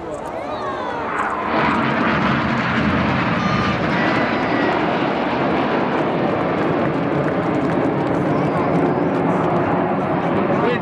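Red Arrows jets rolling and splitting in a display at the Sunderland Air Show, a loud sustained roar of jet engines that builds in the first seconds and then holds, with a commentator talking over it.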